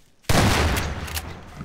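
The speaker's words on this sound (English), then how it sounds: "Fireworks, yay!" Fireworks explode in the sandbox video game Garry's Mod as one sudden loud blast that rolls into a dense, crackling rumble and fades slowly.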